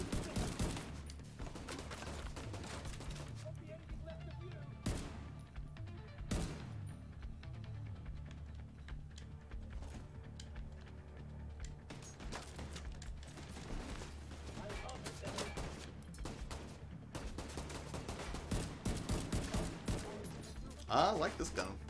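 Shots crack out in bursts from a firearm in The Division 2 shooter game, sharp repeated reports spread irregularly over a steady low background hum, fairly quiet overall.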